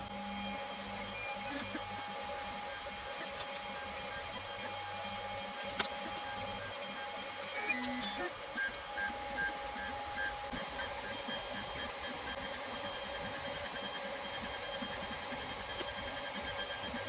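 A 3D printer with auto bed levelling runs for a long stretch, its motors whirring steadily with shifting stepper tones and occasional small clicks, fairly quiet and with no one speaking.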